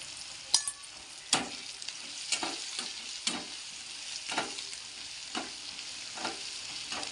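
Chopped onion, already reddened, fries with a little turmeric in a pan, giving a soft steady sizzle punctuated by sharp scraping stirs at irregular intervals, close and fairly quiet.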